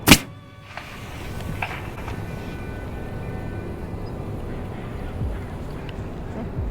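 Bait cannon firing a fishing cast outdoors, one sharp loud pop at the start followed by a long steady whirring rush as the line pays out, with no talking during the launch.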